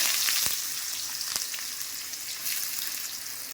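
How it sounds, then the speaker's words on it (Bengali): Onion frying in hot oil, a loud, continuous close sizzle with a couple of sharp stirring clicks, no talking. "তেলটা ভালো মতন গরম হয়ে গেছে তার জন্য বেশিক্ষণ ভাজলে আবার পুড়ে যাবে তার জন্য একটুখানি ভেজে পেঁয়াজটা দিয়ে দেবো"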